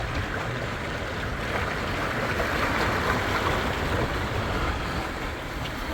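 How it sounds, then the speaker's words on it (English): Steep ocean waves rushing against a sailboat moving offshore at about seven knots between Cape May and Block Island, a continuous close wash of water and wind with no talking. "So we're really moving now. Got some steep waves here."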